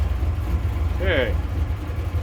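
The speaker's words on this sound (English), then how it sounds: "so we're at an idle at about 15 with the choke on" A 1937 Chevrolet hot rod engine idles with the choke on, giving a steady low rumble throughout while someone speaks briefly over it.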